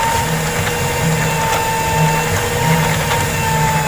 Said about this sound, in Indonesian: nggak terlalu berat si mixer untuk mengaduknya